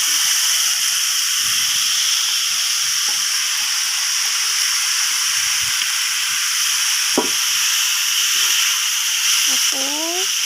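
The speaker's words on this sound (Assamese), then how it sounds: "মচুৰ দাইল, আলু, কলফুল লগত আদা নহৰু গোটেইখিনি আকৌ মিক্স কৰি কিছু সময় লৰাই থাকিম।" Masoor dal, potato and banana flower with ginger and garlic fry in a pan, giving a steady broadband sizzle and hiss throughout, broken by a few short scraping knocks as the mixture is stirred.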